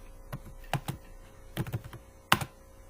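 Someone types code on a computer keyboard nearby, with sparse irregular clusters of light key taps and a sharper thunk near the end over quiet room tone.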